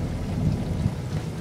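Heavy rain with a thunderstorm in a cartoon, a dense steady roar of downpour and low rumbling, fairly loud and continuous with no voices.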